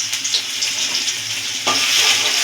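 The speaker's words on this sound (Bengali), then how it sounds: "দিয়ে দেবো রসুন ফোড়ন" Garlic dropped into hot oil already tempered with kalonji (black cumin) seeds, giving a continuous loud frying sizzle that swells brighter partway through, with no talking.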